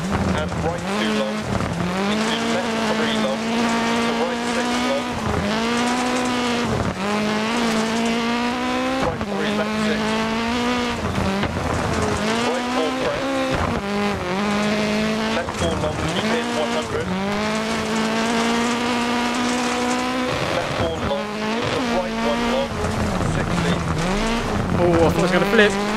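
A rally car engine in the Dirt Rally video game, set on a Welsh stage, revs high and continuously with rising and falling gear-change sweeps, loud throughout, while a person talks over it.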